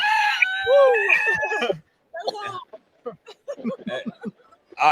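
A rooster crows loudly and close, one long drawn-out call, followed by people talking nearby in short bursts.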